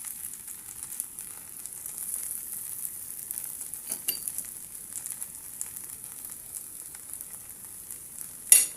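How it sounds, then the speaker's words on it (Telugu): A dosa fries in a light coating of oil on a hot pan, giving a quiet, steady sizzle with soft scraping touches and a sharp clink at the end, with no one talking. "ఇప్పుడు దోశ అనేది కాలనివ్వండి"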